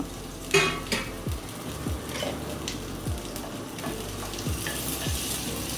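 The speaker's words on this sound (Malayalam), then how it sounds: "നന്നായി അതിൻ്റെ പച്ചമണം മാറുന്നത് വരെ ഒന്ന് ഇളക്കി കൊടുക്കണേ" Chopped garlic and green chillies stir-fried in hot oil, with a steady sizzle and repeated spoon scrapes and knocks against the pan, close up and with no talking.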